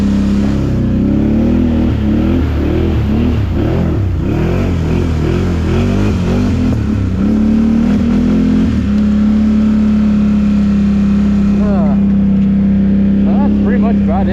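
A 2021 Can-Am Outlander 850 XMR ATV engine revs hard and unevenly in a deep mud hole, rising and falling close by, then settles into a steady high drone.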